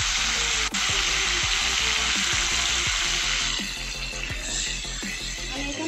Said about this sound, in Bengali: এই তেলের মধ্যে এবার দিয়ে দিচ্ছি কেটে রাখা আলুগুলো